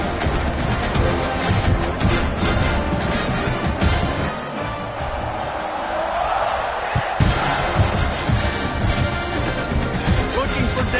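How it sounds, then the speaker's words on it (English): Football stadium crowd buzzing after a score, a dense, continuous roar of many voices with scattered shouts and bangs, loud throughout with a brief dip in the middle. "this crowd is buzzing after that last score"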